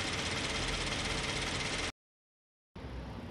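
A Toyota 86 with manual transmission, a used car in good running condition, idles with a steady, even engine drone. A short gap of silence breaks the sound before it resumes at the same level.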